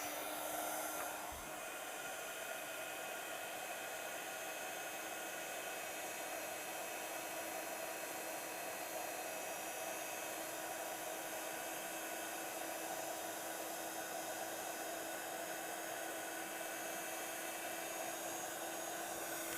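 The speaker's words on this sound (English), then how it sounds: "And then we are going to take our heat tool." A crafting heat tool blows steadily for embossing a stamped daisy card, a close, even whirring hiss that holds unchanged for nearly twenty seconds after a brief click at the start.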